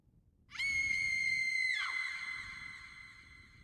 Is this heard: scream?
yes